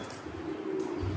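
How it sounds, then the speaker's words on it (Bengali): Pigeons coo at a small park zoo in Brahmanbaria, making a short, low, soft call that is heard briefly and alone. "কবুতর"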